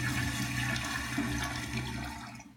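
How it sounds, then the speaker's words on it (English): A toilet flush sound effect played from a soundboard, a loud continuous rush of swirling water that fades out at the end. "Nice little toilet flush."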